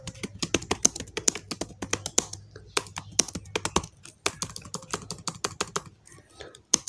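Rapid, uneven bursts of clacking keystrokes on a computer keyboard, close and crisp, with short pauses between runs of typing.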